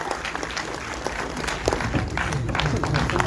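A crowd at a book launch claps, a thick continuous patter of applause that swells slightly toward the end of the short stretch.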